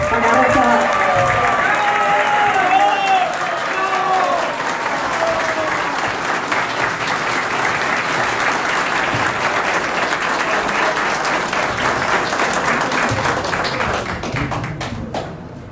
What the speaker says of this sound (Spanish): Fuertes palmas para Rosa Bartra.